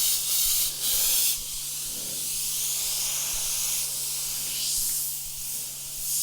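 A Paasche Talon airbrush sprays thinned water-based paint in a close, steady airy hiss, with brief breaks and surges as the trigger is worked.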